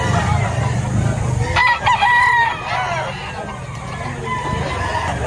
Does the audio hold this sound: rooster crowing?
yes